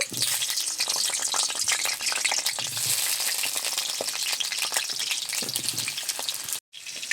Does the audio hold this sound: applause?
no